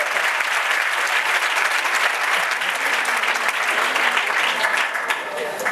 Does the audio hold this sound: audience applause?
yes